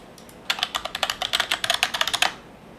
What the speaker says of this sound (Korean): 먼저 비트마트 들어가서 로그인부터 하겠습니다. 어제 만든 아이디로.